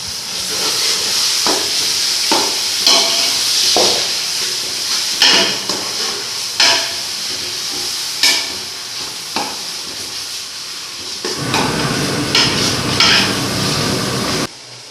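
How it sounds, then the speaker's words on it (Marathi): Tomatoes tossed into well-browned fried onions for chicken biryani, a loud hissing sizzle with repeated scraping stirs, then a surge of steamy hiss near the end; nobody speaks. "कांदा मस्तपैकी एकदम भाजून घेतलेला आहे. त्याच्यामध्ये आता टोमॅटो टाकतो."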